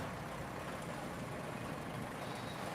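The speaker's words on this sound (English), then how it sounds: "The engine is running at full capacity, pushing us forward." A vehicle engine running hard at full capacity, a steady dense low rumble with broad noisy roar, continuous and fairly close throughout with no talk.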